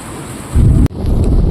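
Rain pouring steadily outdoors, a dense close hiss broken by one sharp crackling burst partway through.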